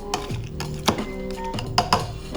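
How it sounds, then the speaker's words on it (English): A muddler smashes chunks of pineapple in a cocktail shaker or glass for a pornstar martini, giving sharp knocking taps and clinks in an irregular rhythm with a ringing tone between hits, close and fairly loud. "What you want to do there is you want to be smashing up the whole pineapple, releasing all the juices."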